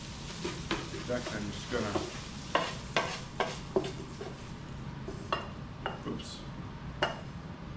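Browned sausage is lifted out of a skillet: utensil clicks and scrapes against the pan ring out in irregular bursts over a faint sizzle, while a person talks briefly.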